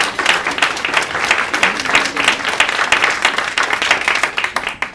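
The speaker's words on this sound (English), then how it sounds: "You could applaud that." Enthusiastic applause from an audience at the Herstory Gala, close and loud, with rapid individual claps distinct in a lively rhythmic burst lasting throughout.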